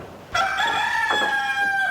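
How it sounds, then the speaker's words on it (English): A rooster crows once, loud and close, a long drawn-out call with a rising then sustained cry, after a brief quiet start. "Oh, I hear the rooster."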